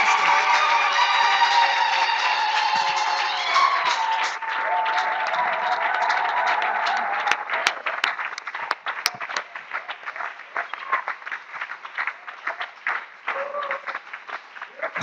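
A church congregation applauds and cheers to welcome a deacon to the front, dense steady clapping that swells early then thins into scattered claps, with voices calling out underneath.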